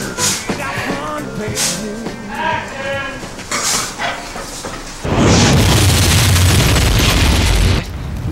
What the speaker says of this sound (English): The fire escape fell off.